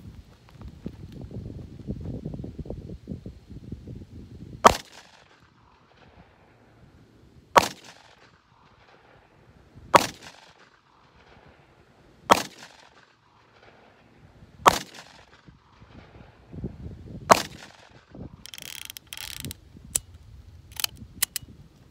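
Seven sharp .357 Magnum shots from a Ruger Vaquero revolver ring out outdoors, spaced a few seconds apart, each a loud crack followed by quiet, with faint wind between.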